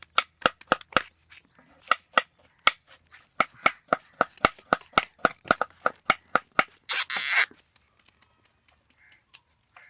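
A knife chops banana flower into small pieces in rapid, steady strokes, about two dozen crisp close taps, followed by a brief rustling scrape and then near silence.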